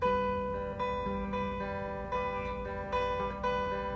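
A guitar plays an intro riff slowly, single picked notes ringing one after another with sustained tones, fairly quiet and without talk.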